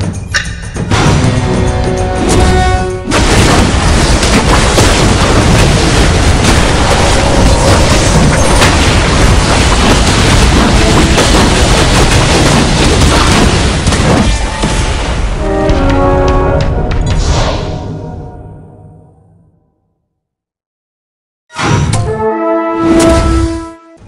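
Loud, dense booming video game explosions in Auto Chess roll on almost continuously for about fifteen seconds, fade into near silence, then a final burst of rumbling impacts erupts.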